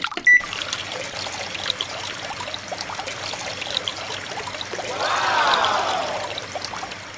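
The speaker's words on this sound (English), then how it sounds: "I'll use this pump with 2 hoses." Steady trickling and splashing of water pouring from two hoses fed by a small pump on a large LEGO plane model, the pump running, with the flow swelling louder toward the end.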